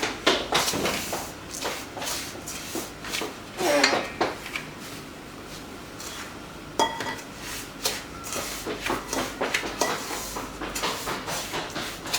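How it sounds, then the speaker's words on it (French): Dry powders and vanilla are mixed in a bowl for Tunisian bread, making repeated scraping and tapping of a utensil against the bowl, close and fairly loud, with a few sharper knocks and no talk. "Bien mélanger toutes les poudres."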